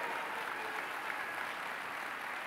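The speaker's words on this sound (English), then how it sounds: "Let's give these guys a round of applause." A church audience claps after a performance, a dense steady wash of applause from a crowd that holds evenly throughout.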